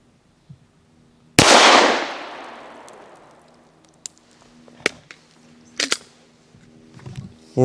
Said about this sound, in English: Now for 5 shots from 7 yards, we'll be using Winchester's 124 grain NATO load